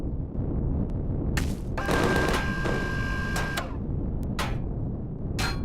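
Enemy gunfire in Empyrion Galactic Survival, several sharp bursts of shots at uneven intervals with a longer rattling volley in the middle, loud and close against a steady rumbling background.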